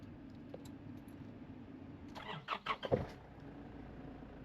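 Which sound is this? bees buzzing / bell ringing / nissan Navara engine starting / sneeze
nissan Navara engine starting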